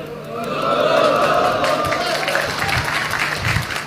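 Audience applause fills a mosque during an Islamic sermon in Indonesia, a steady wash of clapping from a crowd that keeps going throughout, with speech-like murmur mixed in.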